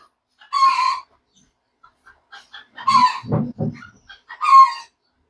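Chickens cluck in short bursts with gaps of quiet between them, and a brief throaty crow in the middle, all close by.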